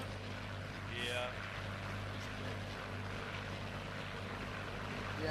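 A P-39 Airacobra's engine during takeoff in Second Life: a steady, droning propeller-engine hum, fairly faint and constant, with a brief swell near the start.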